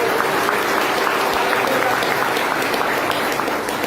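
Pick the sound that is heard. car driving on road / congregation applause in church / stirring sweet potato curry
congregation applause in church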